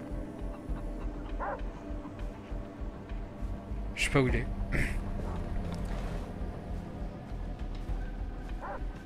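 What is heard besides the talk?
dog barking in the video game Far Cry 3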